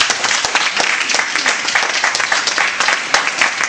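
A church congregation breaks into steady applause, a dense, even wash of many hands clapping close by, continuing evenly throughout with no talk over it.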